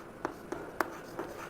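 Writing on a board, heard as a few soft, quick marker or chalk strokes in an irregular rhythm, faint and close in a quiet room.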